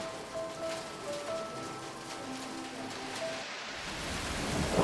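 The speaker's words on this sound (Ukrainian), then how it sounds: "дощ іде цілий день сьогодні" Steady rain that has fallen all day during a thunderstorm, a continuous dense wash of rainfall heard up close with faint tonal sounds in the background and no talk.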